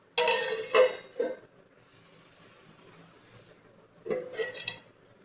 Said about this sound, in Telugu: మూత పెట్టేస్తున్నాను.